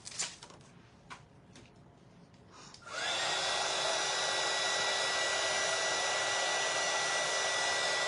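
A hair dryer drying paint on a craft project switches on after a few soft clicks and handling sounds, then runs as a steady, loud, close whir to the end.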